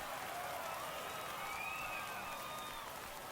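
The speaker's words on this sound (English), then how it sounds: "That fires up the home crowd." In a baseball video game, a home crowd roars and cheers after a home run, a steady, distant wash of crowd noise throughout.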